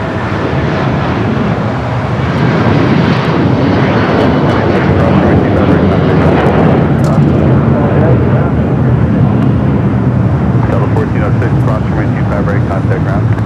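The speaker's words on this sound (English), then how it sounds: "The A319 coming in from San Antonio" An Airbus A319 arriving at Los Angeles International Airport from San Antonio gives a loud, steady jet roar that holds broad and constant throughout, with radio or talk faintly mixed in.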